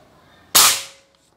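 A Bulldog OD 38 V2 PCP air rifle fires a single sharp, loud crack that decays quickly after near silence.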